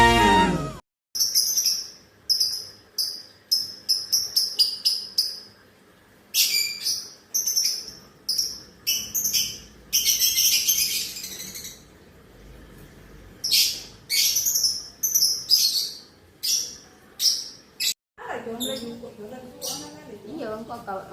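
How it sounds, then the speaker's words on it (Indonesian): Pet lovebirds during mating chirp in quick, bright, close bursts of short tweets separated by brief pauses, with a lower rustling or murmuring sound near the end. "Cara kawin burung lovebird."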